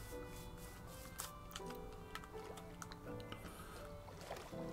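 Paddling a boat in Minecraft, soft rhythmic splashing strokes with small ticking clicks, faint and quiet throughout.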